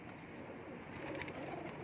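An Indian Teddy pigeon coos in a soft, low, steady murmur, close but faint, filling a brief moment without other sounds.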